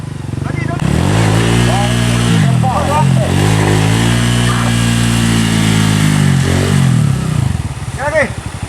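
A trail motorcycle engine revs repeatedly at a mountain trail adventure event, loud and close, its pitch climbing and falling with each throttle blip while people shout and talk over it.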